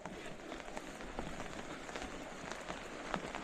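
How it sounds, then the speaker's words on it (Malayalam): Steady rain falling around a house, a dense even patter of drops on surfaces that continues without pause, fairly soft and with no voices over it. "മഴ പെയ്തുകൊണ്ടിരിക്കുക, ഈ മഴ നിൽക്കുന്നുമില്ലല്ലോ."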